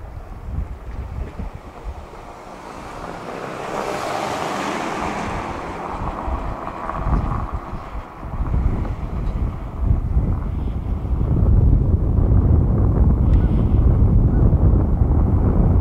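Strong wind buffets the microphone with a steady low roar that swells louder toward the end, over a broad rushing outdoor background.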